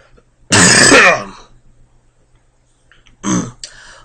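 Two bursts of coughing or throat clearing from a sick person, a loud harsh one followed after a pause by a shorter second one, close by.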